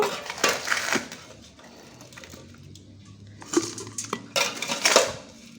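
Soil goes into a pot for a chilli plant, with scraping, crumbly clatter in two bursts and a quiet pause between them. No one speaks.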